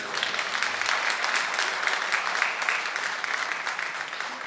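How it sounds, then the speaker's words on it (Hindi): An audience at a poetry recital claps steadily, a dense stretch of applause that carries on evenly and fairly loud with no pause. "रियाज भाई के लिए आप लोग तालियां बजाएं"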